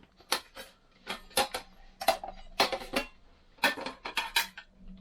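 Aluminium camping cookware, a frying pan and a saucepan, clattering and clinking as it is handled, with repeated close metallic knocks in an irregular rhythm and no voices.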